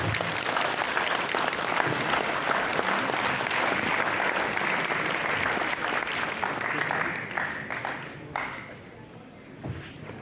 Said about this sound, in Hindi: जोरदार तालियों के साथ हम इनका स्वागत करते हैं।